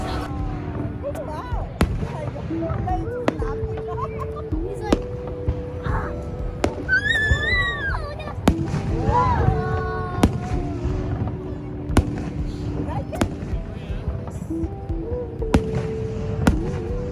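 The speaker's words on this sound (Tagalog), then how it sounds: "May fireworks." Fireworks bursting at Niagara Falls at night, with repeated sharp pops and crackles scattered through a busy crowd, people talking and calling out nearby throughout.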